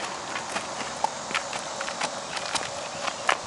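A chestnut and white gelding of about 15.1 hands walks with steady, faint hoof clip-clops at an even rhythm, heard at a distance with no talk over them.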